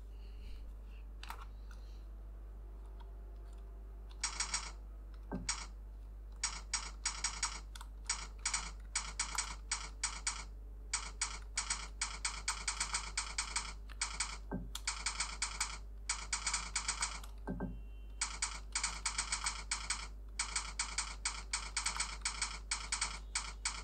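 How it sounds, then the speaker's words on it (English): Steady, rapid typing on a Dell KM3322W wireless keyboard, bursts of crisp key clicks with brief pauses between runs, close up and alone with faint background hum. "I'm going to type for about a minute so that you can get an idea about how this sounds"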